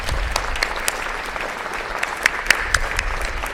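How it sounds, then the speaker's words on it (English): An audience at an academic meeting applauds steadily, a dense patter of many hands with a few sharper claps standing out, moderately near and without voices. "please stand up so we can give you a round of applause"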